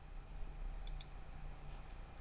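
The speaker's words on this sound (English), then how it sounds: "Right mouse click on the Flash Islands library" Two quick, faint clicks of a computer mouse in a quiet room, close together, over a low hum.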